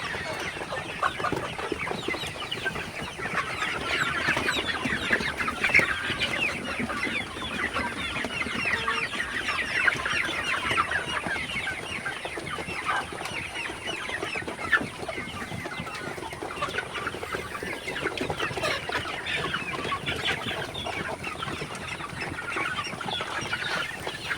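Sonali hybrid chickens cluck and chatter continuously while eating feed at a farm, a dense, busy flock sound with overlapping calls near and far.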